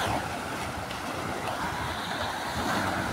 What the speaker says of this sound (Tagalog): Ayan po ang dagat dito